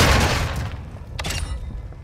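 Gunfire and explosive booms from a Call of Duty match, one loud burst and thud up front followed by quieter shots and rumbling.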